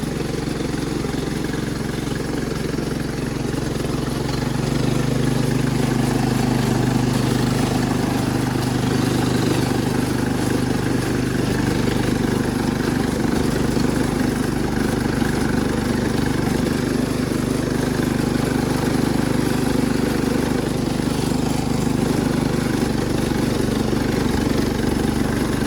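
A Cub Cadet 1250 hydro tractor engine runs loud and close with a steady mid-pitched drone that holds for the whole stretch, no voices over it.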